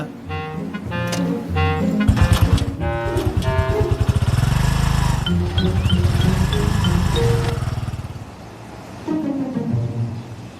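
A motorcycle engine starts and runs with a loud, buzzing rumble for several seconds, then fades. Faint tonal chimes sound over it.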